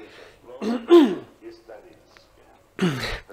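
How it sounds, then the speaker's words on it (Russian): A single throat-clearing cough stands out, with brief speech-like sounds before it and another short burst of the same rough sound near the end. "Кашель."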